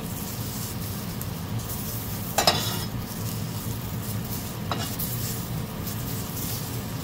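Vegetables sizzle steadily in a pan, with two brief scraping clatters as they are flipped, under a constant low hiss and no talking.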